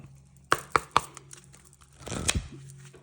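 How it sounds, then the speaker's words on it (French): Oracle de la forêt de Gaïa oracle cards being shuffled: three sharp snaps in quick succession, then a longer rustling riffle, close and fairly quiet. "celui-là, il est assez difficile à mélanger parce que les cartes ne glissent pas du tout"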